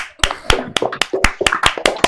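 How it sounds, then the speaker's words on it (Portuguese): A handful of sharp hand claps in a quick, slightly uneven rhythm, close and fairly loud, with roughly eight distinct strikes in a short burst. "Uma salva de palmas aí"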